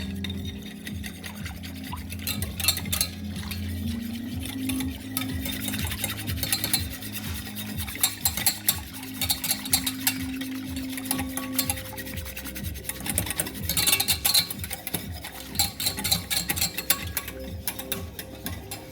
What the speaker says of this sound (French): On fouette pour dissoudre la maïzena, donc dans le lait de coco froid.